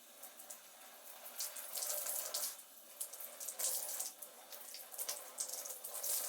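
Tap water runs steadily into a sink while curly hair is fully soaked before styling, a continuous splashing hiss with shifting surges and no voices.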